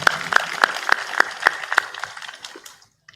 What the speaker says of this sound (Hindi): ताली बजा दो, इनके लिए सम्मान हो जाए।